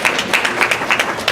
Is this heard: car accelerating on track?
no